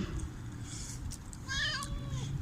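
A black cat gives a short, fairly close meow of rising then falling pitch, heard against low background noise.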